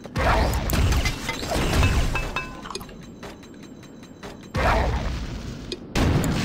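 Grenades explode in the game Quake 2, heard as several loud, booming bursts with shattering, metallic debris noise, separated by quieter gaps.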